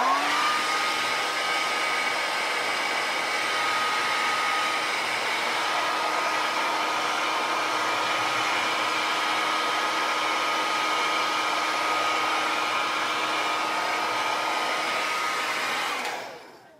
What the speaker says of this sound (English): let's blow dry this a little bit more